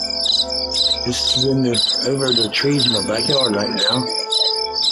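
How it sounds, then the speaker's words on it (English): Crickets chirp steadily at night in a backyard, a dense, continuous high trill running from start to finish while someone talks over it. "You can hear the crickets and stuff, the cars going by."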